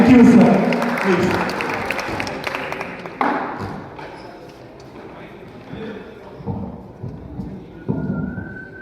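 Loud crowd applause honours a speaker at a festival gathering at Liaquat Memorial Library, a dense burst of clapping that starts strong, then thins and tapers off while a few scattered claps continue.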